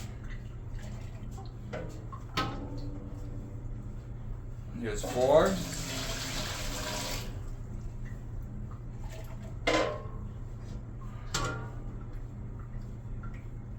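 Water is measured out and poured from cup to container in a brief burst of a couple of seconds over a steady low hum, with a few short clatters and a spoken count before and after.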